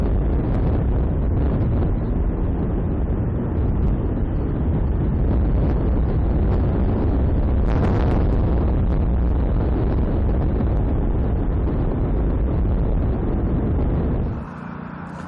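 Strong river wind buffets the microphone in a loud, continuous roar with gusty swells for most of the stretch, then drops off sharply near the end.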